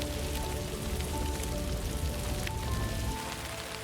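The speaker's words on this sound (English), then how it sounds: "But when the first rains of the wet season arrive, from October to April, the Cerrado awakens." Steady rain falls on the grasslands of the Cerrado at the start of the wet season, a dense, continuous patter close by with no voices.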